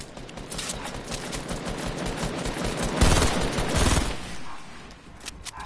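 Continuous rapid gunfire in a shooter game played on PS4, loud and dense, swelling into a heavier burst midway before easing off.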